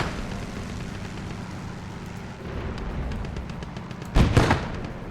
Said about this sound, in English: He's coming back for a bombing run.